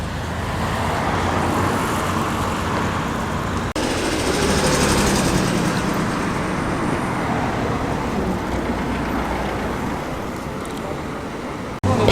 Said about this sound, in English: Jaguar E-Type Series 2,